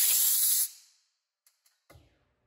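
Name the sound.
air blown through valve after needle removal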